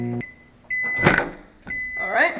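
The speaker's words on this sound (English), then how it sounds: "microwave for 1 minute" A microwave oven hums steadily while warming a runny mixture for soft plastic fishing lures, a constant drone beneath a person talking.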